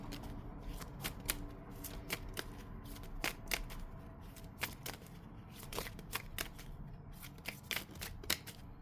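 Tarot cards shuffled by hand close up, a continuous soft riffling and flicking with irregular crisp snaps, fairly quiet, with no talking.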